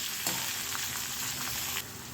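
Steady sizzling of onions sautéing in a pan until light brown, a continuous crackling hiss with a brief louder burst near the start, no voices.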